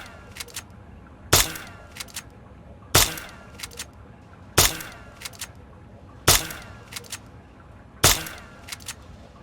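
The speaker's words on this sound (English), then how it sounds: "he lets you shoot at some targets with a BB gun he got you." Five evenly spaced BB gun shots ring out at targets in the game Fallout 3, each a sharp crack followed by a brief rattle of smaller impact clicks, loud and close.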